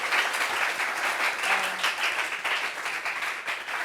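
A television studio audience applauds steadily throughout, giving a dense, even wash of clapping hands with no speech over it.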